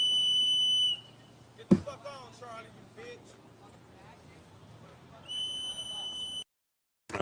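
A high steady whistle tone sounds at the start and again near the end, with quieter speech and background noise in between.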